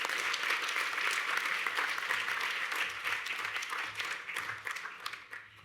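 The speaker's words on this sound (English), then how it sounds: "Big round of applause for Annie Lois Pila." An audience applauds at an Aboriginal honour roll ceremony, a full, even round of clapping that holds for several seconds and then thins and tapers toward the end.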